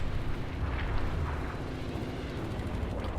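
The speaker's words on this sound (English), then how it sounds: "There's a Wraith. He's shooting at me." A Wraith tank firing in the Halo video game, dense continuous rumbling blasts and booms filling the mix at loud volume with no clear gaps, no voices heard.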